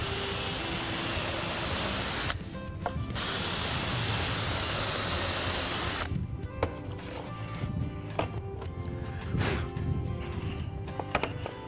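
A power drill fitted with a pocket-hole bit bores pocket screw holes in wood, giving two long, steady, close whirring runs, followed by scattered clatter and handling knocks.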